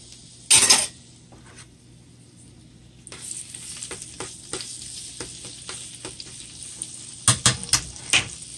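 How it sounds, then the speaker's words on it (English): Garlic hits a hot pan with a short sharp sizzle, then a quieter spell, then stirring scrapes and bursts of frying over a faint steady hiss, close by and without talk. "As the garlic and pepper are cooking"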